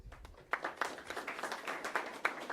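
Applause for May honorees at a school board meeting: a small crowd clapping in a brisk, uneven patter that builds quickly and holds steady.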